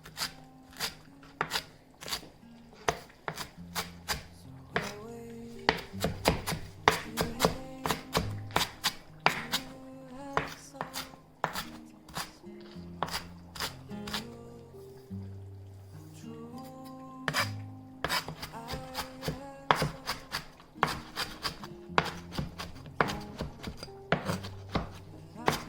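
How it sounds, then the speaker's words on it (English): A knife chops fresh cilantro on a cutting board in quick, uneven bursts of sharp close taps, pausing now and then before starting again, with no talking. "Chop again."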